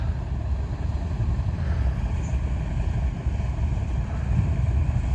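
A loaded ferry pulls away across an ice-choked river at the Tektyur–Zhatay crossing, a low steady rumble of engine and water under heavy wind buffeting the microphone, with no talk.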